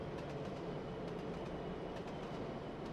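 Class 66 freight train running on the Colchester–Harwich line in Trainz Simulator 3, a steady, continuous rolling rumble with faint rhythmic clicks, moderately quiet and unbroken, with no voices.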